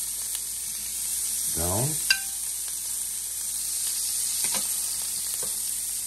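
Scallops sear in a pan with garlic and wine, a steady close sizzle with a few clinks and stirs, and a voice speaks briefly over it.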